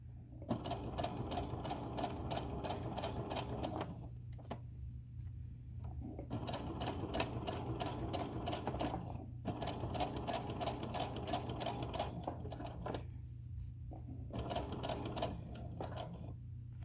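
A sewing machine runs in steady bursts while stitching a tote bag seam along a 5/8 inch line, pausing briefly between runs as the needle is set down and the fabric pivoted, with a constant low hum underneath.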